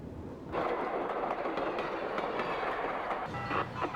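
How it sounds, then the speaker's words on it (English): An Alaska Railroad Fairbanks passenger train heading north toward Denali rolls along the rails, a steady loud rumble with clickety-clack of wheels starting abruptly and continuing throughout, no voices. "The Fairbanks train continues north toward Denali"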